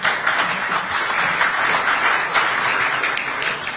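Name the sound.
audience applause after a lecture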